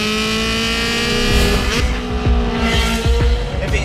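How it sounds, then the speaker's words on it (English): A 2003 Ferrari 360 Challenge Stradale engine roars loud and close, rising and falling in pitch as it revs, with a harsh, rasping exhaust note throughout. "nothing quite abuses your eardrums like a 360 Challenge Stradale"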